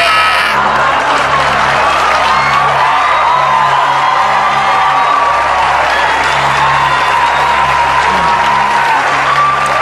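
Loud, sustained applause and cheering from a studio audience on a live game show, with whoops and shouts over a steady roar of clapping throughout.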